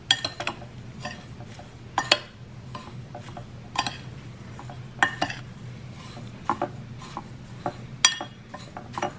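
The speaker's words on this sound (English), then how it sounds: "I'm going to mix this together first" A spoon clinks and scrapes against a bowl while mango dipping sauce ingredients are stirred together, giving irregular sharp taps over a low steady hum, close and moderately loud, with no talking.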